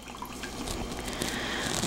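Water drips and trickles as excess water is squeezed out of yarn, a close, continuous patter with small splashes and no talk.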